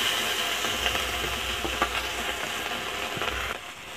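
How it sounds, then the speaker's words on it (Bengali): Small chuna fish fry in a hot pan, a steady close sizzle broken by a few scraping stirs and clinks, fading slightly at the end. "এখন আমি চুনা মাছগুলো কড়াতে উঠিয়ে দিচ্ছি।"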